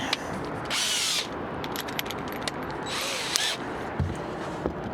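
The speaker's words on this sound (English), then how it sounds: "Chamfer the edge and inside." A power drill chamfers the edge of a drilled hole while a charging mount for an ORCA navigation system is fitted, giving two short, loud whirring bursts with small mechanical ticks and clicks between them and no talking.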